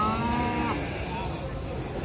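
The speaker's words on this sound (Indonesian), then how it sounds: "Bisa dilihat nih sapi-sapinya" Cattle at the Gerabak livestock market let out a drawn-out moo over a busy, noisy crowd backdrop, with more distant lowing and faint chatter around.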